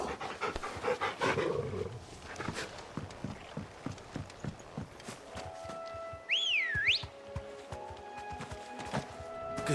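Torgal, the dog in Final Fantasy XVI, pants in quick rhythmic breaths close by, with game footsteps clopping along and a brief rising whistle-like tone near the end.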